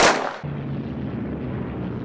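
Gunfire sound effect in a dramatized retelling of a Japanese air attack with torpedo planes: one loud, sharp blast at the start, then a steady low rumbling din with no talk.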